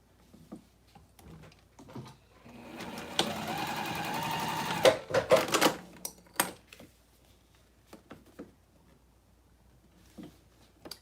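A sewing machine stitches olive green cork fabric in a short burst of close, steady mechanical whirring, surrounded by scattered handling clicks and taps before and after the run.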